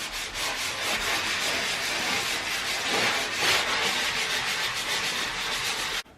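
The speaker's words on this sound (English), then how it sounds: "And now we're sanding before texturing." Continuous gritty rasping of sandpaper scrubbing back and forth over a wall patch where a mirror's glue was removed, before texturing, close and steady, with no talking.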